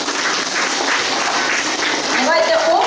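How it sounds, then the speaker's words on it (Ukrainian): A school Teachers' Day crowd applauds the young pupils with a steady wash of clapping from start to finish, growing a little fuller toward the end. "Давайте оплесками привітаємо наших малюків."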